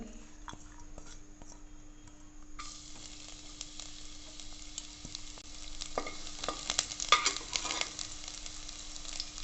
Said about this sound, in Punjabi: ਪਹਿਲਾਂ ਭੁੰਨਾਂਗੇ ਜੀ ਆਪਾਂ ਲਸਣ